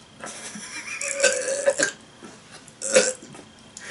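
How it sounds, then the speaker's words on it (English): Someone burps after drinking Bud Light beer: several loud, close, guttural belches come in separate bursts with short pauses between them. "Gotta start letting those burps out"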